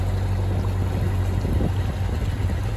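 A narrowboat engine chugs along the River Weaver at about four knots, a steady low drone with water wash close by and no talk over it.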